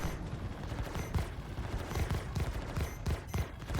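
Spaceship guns fire steadily in Star Citizen during a Corsair versus Redeemer battle, a dense stream of overlapping shots with pulsing bursts that runs continuously without a break.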